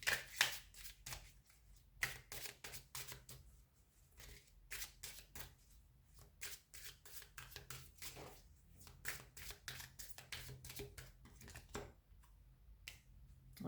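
Tarot cards shuffled and drawn during a relationship reading, a long run of quiet close riffles, snaps and card slaps in an uneven rhythm, faint and without voices.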